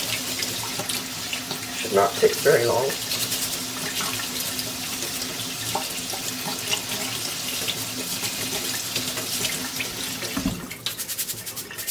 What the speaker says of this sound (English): we're going to rinse it under cold water until the water runs clear